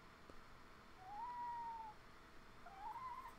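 Cat giving two drawn-out meows, the first longer and the second shorter and rising, faint and fairly close against a quiet room hum.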